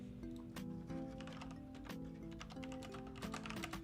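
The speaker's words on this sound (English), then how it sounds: "I will type it." Computer keyboard being typed on, a quiet, close run of quick, uneven key clicks throughout.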